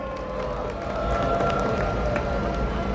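Steady applause with scattered cheers rises from a large crowd at an outdoor civic rally, a dense, even wash of clapping heard from a distance.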